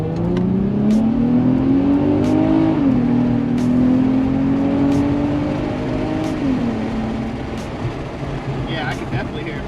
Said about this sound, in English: I'm about to burn the most rubber this car ever seen.